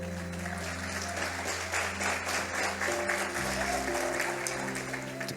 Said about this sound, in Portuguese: Aplauda ao Senhor de todo o seu coração.